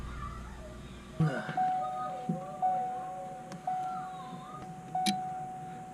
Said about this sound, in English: I hear a relay.